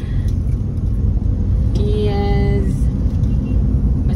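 Cars and heavier vehicles crowd an intersection in a loud, steady engine rumble, with a brief whining tone partway through and a single short spoken word over the traffic.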